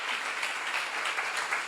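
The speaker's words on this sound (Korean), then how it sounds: "박수로 하세요." An audience at a church seminar claps together in a steady, moderately distant burst of applause that carries through without any voices over it.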